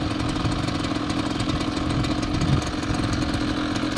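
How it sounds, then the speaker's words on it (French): A 2010 Rieju Tango moped engine idles with a buzzy, steady putter, the idle creeping up slightly toward the end, close and alone with no talk. "Le ralenti, il monte."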